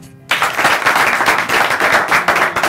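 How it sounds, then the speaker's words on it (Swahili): A live studio audience bursts into loud, sustained applause, a dense wash of many hands clapping that starts abruptly and holds steady to the end, with no talk over it. "Wapi makofi yao?"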